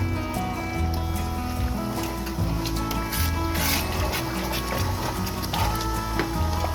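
A spoon scrapes and rubs around a pot of boiling one-pot Mexican casserole, with continuous scraping strokes and light clatter over a bubbling background.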